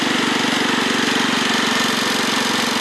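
The engine of a 1996 Craftsman riding lawnmower runs steadily at close range with the throttle raised, a loud continuous rough drone with a fast pulsing chug.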